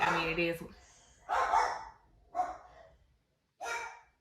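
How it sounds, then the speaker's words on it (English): Several dogs bark at someone outside in short bursts, moderately loud and mixed in with someone talking nearby in a home setting. "Please excuse the dogs."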